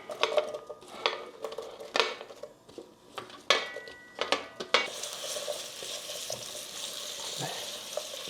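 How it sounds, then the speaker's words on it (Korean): Onions and potatoes dropped into olive oil in a pot, first clattering utensil clinks and scrapes, then a steady soft sizzle of frying that continues to the end. "양파와 감자를 넣고 볶아줄 거예요."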